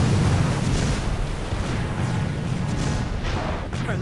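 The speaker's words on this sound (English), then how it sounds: "Precise torpedo. Enemy ship sunk." Torpedo explosion sinking a ship in a naval combat game featuring a Soviet destroyer, a dense, sustained roaring blast with deep rumble filling the whole moment, loud and close.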